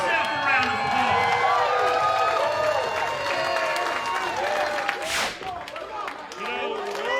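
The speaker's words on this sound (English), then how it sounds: "You give yourself a round of applause." A packed wrestling crowd applauds and cheers in a continuous roar, with shouts and a loud spike of screaming partway through, while voices ring out over the noise.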